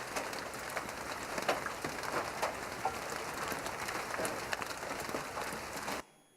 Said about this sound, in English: this nice little pitter-patter of rain on metal.